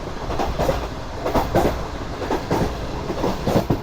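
An express train runs on rails through Punjab approaching Dera Nawab Sahib station, with a steady rumble and rhythmic clickety-clack of wheels over rail joints, moderately loud and close, with no voices.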